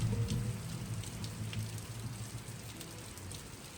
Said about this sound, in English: within minutes, rain started to fall